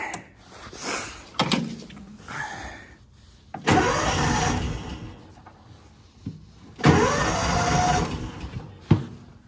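A Kawasaki Mule 550 utility vehicle, a barn find, cranks and catches in two loud bursts of engine noise separated by quieter stretches, with mechanical clatter and rattles in between; no one speaks.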